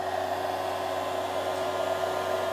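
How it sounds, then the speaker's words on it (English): A hair dryer runs as an electrical load on a 12-volt supply, giving a steady, even motor whine and airflow hum with a constant pitch and no pauses or talk. "my hairdryer is now working."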